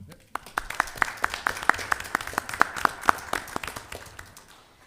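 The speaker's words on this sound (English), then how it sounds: "We're going to give y'all a round of applause." An audience at a Board of Aldermen meeting applauds a scout troop, a brief round of scattered, fairly close hand claps that rises quickly and then thins out.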